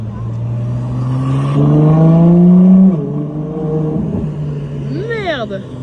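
A Ferrari hypercar drives past on a Monaco street, its engine swelling to a loud, rising howl as it nears, dropping in pitch as it passes, then receding, with a sharper whine at the end.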